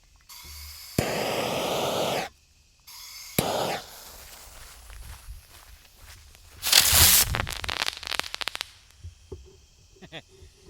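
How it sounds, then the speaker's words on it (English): A stickless rocket firework spinning and crackling outdoors: hissing bursts, then a loud rush of sparks followed by a run of quick, sharp crackles that fade out, heard from nearby. "Alright, so no boom on that one. Just a nice little crackle."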